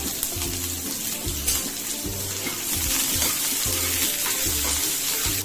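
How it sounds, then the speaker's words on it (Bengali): Onion and green chili hit hot oil for desi tadka fried rice, a dense, close, continuous sizzle with rhythmic low clatters from stirring, steady and loud without speech. "তেলটা গরম হয়ে গেছে, উপরে দিয়ে দিচ্ছি আমি পেঁয়াজ,"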